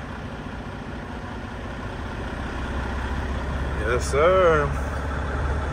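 A 2015 Freightliner Cascadia diesel truck idles steadily with a low, even rumble, its idle raised and the engine note rising slightly near the end as someone speaks briefly.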